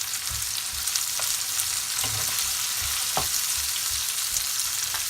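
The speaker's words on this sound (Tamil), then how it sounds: "வெங்காயம் கொஞ்சம் வதங்கட்டும்." Onions and green chilies sautéing in a pan with dried red chilies for crab curry, a continuous bright sizzle with scattered light stirring taps throughout.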